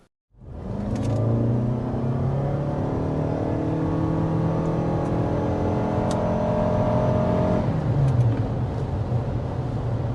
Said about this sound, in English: off to the races with the RAV4 hybrid